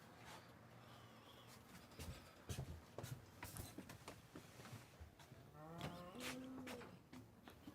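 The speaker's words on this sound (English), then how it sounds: "I wonder if folks can hear the cows in the background." Cows at an animal sanctuary moo in the distance, faint and low, with a few deeper calls rising near the end over quiet ambient rustling and clicks.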